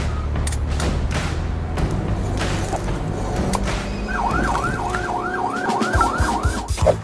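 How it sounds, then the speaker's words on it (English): A wailing police siren cycles rapidly up and down in a steady yelp over the continuous rumble of city traffic. It rises out of the noise partway through and holds strong until the end. "one of them might have a siren and blue lights on top"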